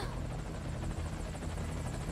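A helicopter arriving at a landing zone in Metal Gear Solid 5: Ground Zeroes thumps steadily with a low droning engine, loud and close, continuing throughout without pause.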